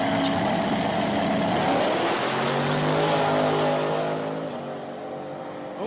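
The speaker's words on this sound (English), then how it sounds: "Helms with them Gorilla Flames going down track" A drag race car accelerates down the track with a loud, sustained engine roar that holds steady and then fades slightly as it pulls away.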